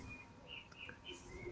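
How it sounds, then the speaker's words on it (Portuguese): Small birds sing outside in short, faint chirps and thin whistled notes, distant and sparse against a quiet room background. "Nossa, tem uns passarinhos cantando legal aí"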